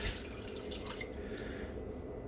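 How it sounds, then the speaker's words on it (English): One cup of water poured into a pressure cooker pot over a head of kale on a steamer tray, a short continuous splashing pour that carries on at steady loudness. "now I'm gonna add some water. And I'm adding 1 cup."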